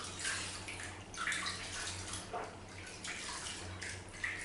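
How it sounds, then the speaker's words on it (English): Running water splashes steadily as milk cleanser is rinsed off skin, a soft continuous wash with faint uneven splatters, heard alone. "Just making sure you really rinse the skin."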